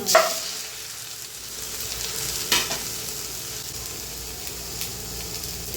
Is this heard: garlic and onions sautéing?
yes